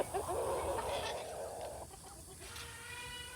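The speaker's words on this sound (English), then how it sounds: "That rooster wanted to mount her." Chickens and a rooster cluck and squawk close by in a farm coop, a burst of agitated calls at the start easing into quieter clucking, with faint talk in the background.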